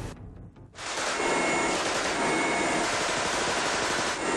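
Gunfire during an attack in Peru, captured in recorded footage: a dense, sustained roar of rapid shots starts after a short lull and keeps going loud and continuous, with a rough, distorted texture.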